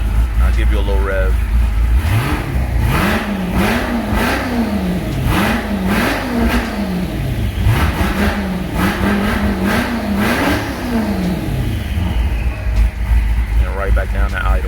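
A turbocharged Dodge Charger Hellcat with an aggressive cam, warm at idle, blips through a rapid series of revs that rise and fall in a choppy rhythm, loud and close, then settles back down to a lumpy idle.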